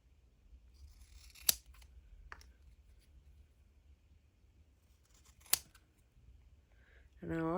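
Scissors snip paper cut-outs for faux metal dangle charms, two crisp, separate cuts several seconds apart in a quiet room, with a voice starting at the end.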